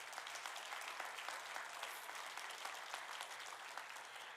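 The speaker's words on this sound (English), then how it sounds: "So give them another round of applause." Audience applause at a community meeting on school safeguarding in Sumner County, a steady wash of many hands clapping at moderate distance, sustained evenly throughout with no voices standing out.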